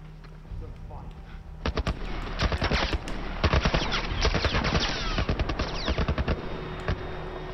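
A military turret machine gun in The Last of Us hammers out rapid, loud bursts of sharp repeated shots, near and dominant, with voices speaking between the volleys.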